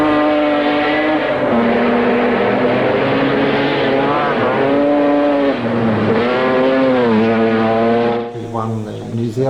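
The rotary engine of a Mazda RX-3 rally car runs loud and close, holding a steady high-pitched drone with slight rises and falls in pitch before easing off near the end.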